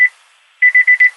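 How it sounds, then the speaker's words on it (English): A car's door alarm, triggered because the keys are left in the ignition, chimes loudly nearby: one beep, a short pause, then four quick evenly spaced beeps. "Okay, now what is that noise? Oh, that's my door alarm."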